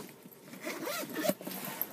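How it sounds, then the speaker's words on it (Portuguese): A zipper on a small pocket of a gray backpack is pulled in one fairly close, scratchy run, with a short tug near the end. "Aqui temos esse bolso que eu coloquei um zíper para facilitar"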